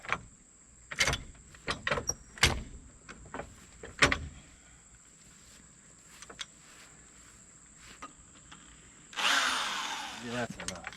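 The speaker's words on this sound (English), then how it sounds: "these rivets are spinning on the drill bit." Sharp intermittent clanks and knocks while rebuilding a Roadmaster Stowmaster 5000 towbar, followed near the end by a burst of a power drill whirring loudly up close as rivets spin on the drill bit.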